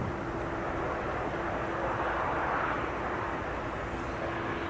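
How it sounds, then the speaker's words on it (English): An EasyJet Airbus A320neo arrives at Manchester Airport, making a soft, steady, distant engine rush that swells slightly midway, with a faint constant hum beneath and no voices. "It's an A320 Neo"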